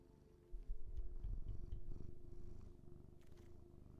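A pet cat purring close up, a soft low rhythmic rumble that swells and continues steadily, faint and intimate with no talking.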